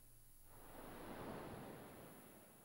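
Ocean waves on the shore at Zanarkand in the PS2 game Final Fantasy X: a soft, steady surf wash that swells and fades over a couple of seconds, heard alone.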